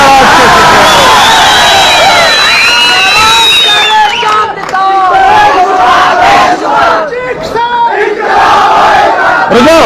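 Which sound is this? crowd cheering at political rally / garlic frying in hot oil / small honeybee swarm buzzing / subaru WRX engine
crowd cheering at political rally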